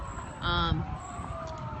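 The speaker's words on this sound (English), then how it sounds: "if you can hear some of the sirens that are" Distant motorcade sirens wail continuously under outdoor ambience outside Legislative Hall in Dover, Delaware, with a short louder horn-like blast partway through.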